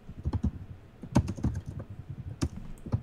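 Computer keyboard typing ticks along in quick, irregular bursts of clicks and taps, fairly close and moderately quiet, with no voices over it.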